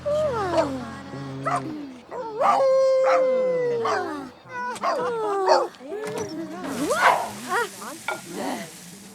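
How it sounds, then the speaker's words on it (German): A dog in The Sims 3 howls in long rising and falling wails mixed with sharper barks, loud and close, with game sounds underneath. "Ein Köter"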